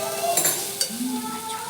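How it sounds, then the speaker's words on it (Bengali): Food frying in a pan is stirred during village cooking, with a soft steady sizzle and a few brief scraping clinks of the utensil over about two seconds. "আবার নেড়ে নিচ্ছে।"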